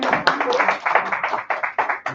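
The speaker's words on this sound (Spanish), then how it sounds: "Aplaudimos a nuestro cumpleañero." A church congregation at a Sunday celebration service applauds a birthday person, with a burst of irregular clapping mixed with voices talking over it.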